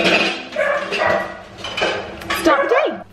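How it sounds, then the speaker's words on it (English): Pet dogs bark and whine excitedly at home while dishes and cutlery clatter nearby and a person talks over the noise. The barks come in several close, loud bursts. "The dogs are losing their mind because Gemma is here"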